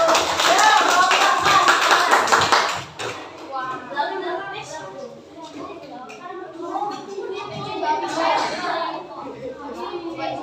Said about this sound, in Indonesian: Berikan tepuk tangan yang meriah untuk kelompok 1.